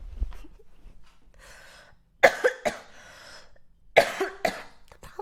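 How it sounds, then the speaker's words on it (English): Dry coughing from a person, heard as a few sharp, close bursts: a faint cough early, then two loud clusters of harsh coughs separated by quieter breathing, with no speech. "Right now they're dry coughs, so like I can't spit it out."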